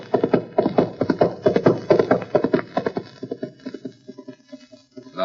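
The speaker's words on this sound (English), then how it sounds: "Nice horse." A horse gallops in an old-time radio drama about horse racing, its rapid hoofbeats loud and rhythmic, then easing and thinning out toward the end, with no talk over it.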